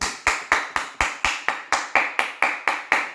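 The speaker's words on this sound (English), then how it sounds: "Big round of applause" Steady, evenly spaced hand claps, about thirteen sharp slaps in a regular rhythm, close and fairly loud, with no talking over them.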